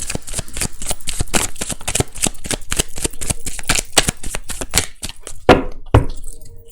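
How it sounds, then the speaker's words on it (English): A deck of tarot cards is shuffled by hand in quick riffles and taps, a rapid rhythmic series of crisp papery flicks, close and clear, ending with a few slower slaps. "I've already shuffled the deck."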